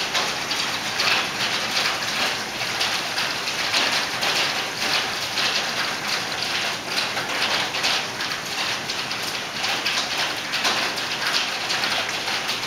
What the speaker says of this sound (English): there's hail blowing down off our roof